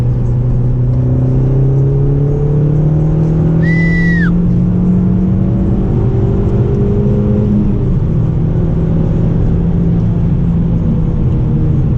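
A 210 hp Audi S3 8L accelerates hard in third gear from around 3500 rpm at 70 km/h, its engine drone rising steadily in pitch, loud and close from inside the car with no speech.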